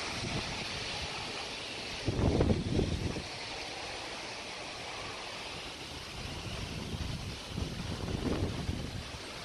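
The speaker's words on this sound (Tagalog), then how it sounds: "Tingnan niyo dito guys ang lakas ng hangin." Strong wind during a tornado warning in Idaho roars and buffets the microphone, a steady rushing blow broken by louder gusts early on and again near the end, with no talking.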